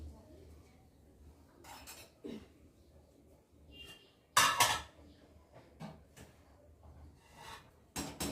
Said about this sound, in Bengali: ভাতটা একটু নেড়ে দিই।